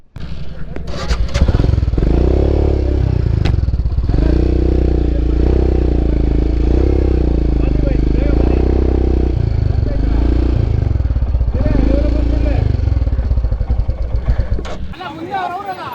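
Motorcycle engine running at a steady, loud idle close by, with clattering and thumps at the start and a rough rev near the end.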